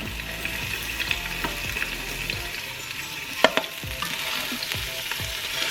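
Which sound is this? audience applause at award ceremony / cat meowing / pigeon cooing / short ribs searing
short ribs searing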